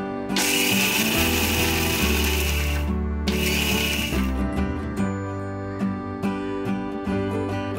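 Mixer grinder coarsely grinding peeled roasted peanuts and roasted, cooled poha for ladoo, a loud steady whirring motor with rattling contents, two bursts with a brief pause between.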